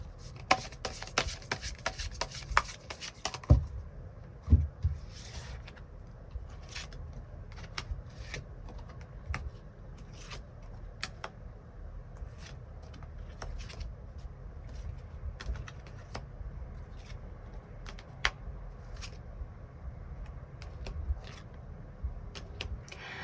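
Tarot cards are shuffled and drawn during a reading, with a dense run of quick card riffles and taps at first, then scattered soft slaps, slides and rustles of cards laid down, close and fairly quiet.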